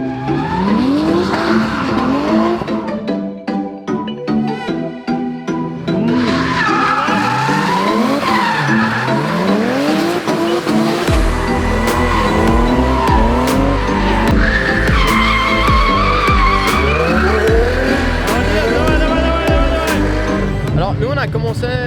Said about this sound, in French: on va avoir des possibilités à voir beaucoup de drift, beaucoup de burn